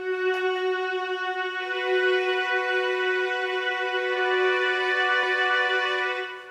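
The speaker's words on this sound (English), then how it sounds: "We also have these strings that lead into the chorus" Sustained string tones with rich, even harmonics hold and swell gently over several seconds, building smoothly into the chorus of a song, with no voices present.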